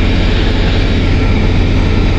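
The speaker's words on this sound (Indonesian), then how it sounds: "Suara mesin itu berasal dari kontainer putih ini, kontainer reverse namanya. Jadi seperti freezer, mesin pendingin dari bahan-bahan makanan." Refrigeration unit of a white reefer shipping container at a cargo dock, giving a loud, steady, continuous mechanical drone with a strong low rumble and no break, heard alone throughout.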